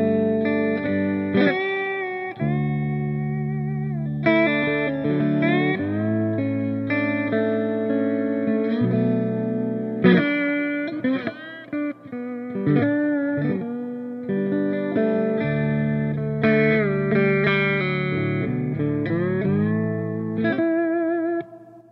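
A clean electric guitar through a Black Volt amp with spring reverb plays a melodic phrase of sustained single notes and chords, slides and bends, the reverb tail ringing after each phrase, with no one talking.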